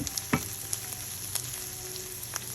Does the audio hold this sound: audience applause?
no